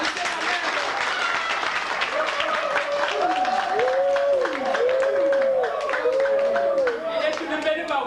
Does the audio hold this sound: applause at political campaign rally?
yes